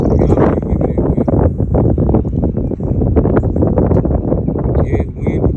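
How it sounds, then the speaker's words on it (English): Strong wind buffets a microphone outdoors on a crappie fishing trip, giving loud, continuous rumbling gusts throughout with no break. "It's windy today too"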